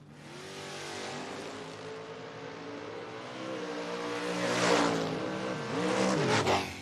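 Footbrake drag racing Camaros rev and launch down a drag strip, engines droning with rising pitch that swells louder midway, then surges again as the cars pull away.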